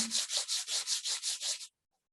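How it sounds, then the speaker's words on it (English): Sandpaper rubs back and forth by hand with the grain over rough-grained wood in about eight even, rhythmic strokes close by, then stops into silence. "when I'm hand sanding like this"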